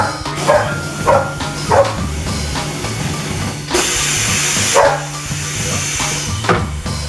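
Dog barking in short bursts near a tire machine in a garage, with a long hiss of compressed air from a compressor between barks; several loud yips spaced across the clip, no talk.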